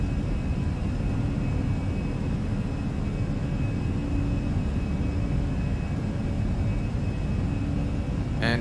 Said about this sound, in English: And now we are taking off, we are climbing.